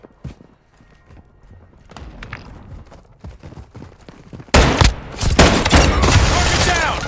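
Gunfire in a Call of Duty Modern Warfare 2 firefight. Scattered sharp shots crack at first, then loud sustained bursts of rapid fire erupt and dominate the second half.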